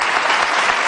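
Studio audience on an Indonesian television talk show bursts into loud, dense applause, many hands clapping close and steady for a short burst with no pause.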